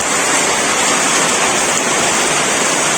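Heavy rain pours steadily at a forest checkpoint office in West Bengal, a loud, dense, unbroken hiss with no voices.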